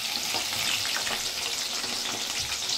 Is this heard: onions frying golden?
yes